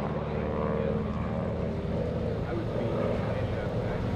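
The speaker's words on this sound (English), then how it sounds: "Love the sound of the Pratt & Whitney R1340 and the Hamilton Standard propeller tips going supersonic." A propeller airplane's Pratt & Whitney R1340 radial engine with Hamilton Standard propeller drones loud and close at an airshow, a steady rumbling roar with a rapid pulsing beat that holds throughout.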